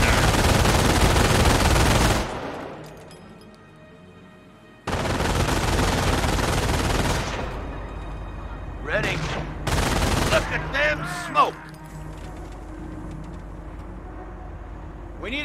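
Bursts of machine gun fire from an MG nest in the WWII video game Company of Heroes rattle loudly in long fusillades, broken by pauses, with game voices calling out between the bursts.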